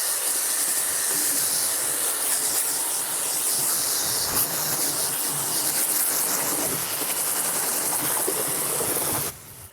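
A small portable pressure washer sprays water on a car, a loud, steady hissing spray running continuously, then cutting off abruptly just before the end.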